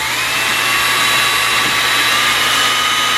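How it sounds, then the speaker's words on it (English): A power drill runs steadily as it mixes compound for lengthening a deer muzzle in taxidermy, giving a close, loud, continuous high-pitched whine with no pauses. "now I'm going to take my drill"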